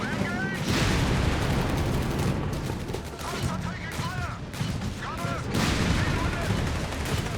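Dense, continuous bursts of rapid gunfire and explosions in a loud, chaotic Company of Heroes 3 battle with no pauses, including an armored car and rifle fire.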